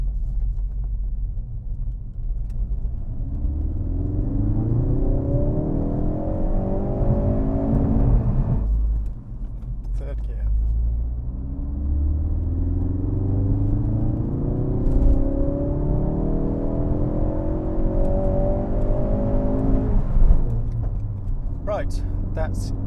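A Ford Focus RS pulls hard in second gear, engine note rising steadily in a loud, close drone, a brief drop at a shift, then climbing again.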